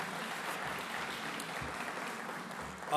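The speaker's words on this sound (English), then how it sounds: "Please give them a big round of applause." Audience applause at a Bronx public event hosted at the Y, a steady broadband wash of many hands clapping at moderate loudness, continuous throughout with no voices.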